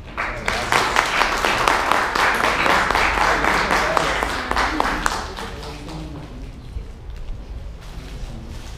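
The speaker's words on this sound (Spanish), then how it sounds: "Un aplauso." An audience at an archaeology lecture series in León breaks into sustained applause, many hands clapping briskly and loudly before the sound thins and fades toward the end.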